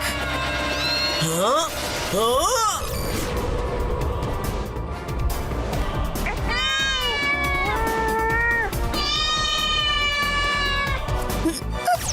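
Cartoon cats meowing in an animated episode, several drawn-out rising and wavering meows and a longer sung cat-like melody over background music, with a character's voice speaking.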